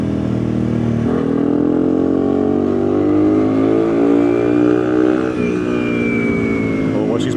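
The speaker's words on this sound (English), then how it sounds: "watch these bikes. These guys hauling ass." Motorcycles hauling hard along the Tail of the Dragon mountain road, a steady loud engine drone rising and falling in pitch as bikes accelerate and pass, with voices talking over it.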